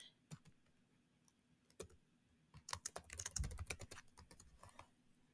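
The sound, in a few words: typing on computer keyboard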